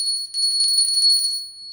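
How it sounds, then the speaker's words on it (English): A small hand bell is shaken in a rapid, busy jingle of many light, high, thin strikes that rings out steadily before tailing off into a faint fading tone. "And here's the small one."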